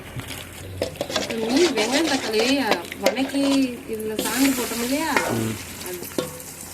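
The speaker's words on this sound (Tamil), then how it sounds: "கத்திரிக்காய் எண்ணெயில் மிதக்கின்றது வதங்குது" Eggplant sizzles steadily in hot oil for ennai kathirikai while a utensil stirs and scrapes the pan, with voices talking over the cooking.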